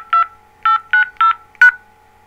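Telephone keypad tones while a voicemail password is keyed in: five short, clear DTMF beeps in an uneven rhythm over a steady low line hum, no voices.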